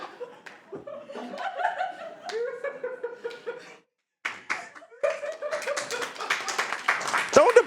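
An audience laughs and claps at a speedrun gaming event, scattered chuckles and laughter giving way to a burst of applause, with a voice speaking over the top.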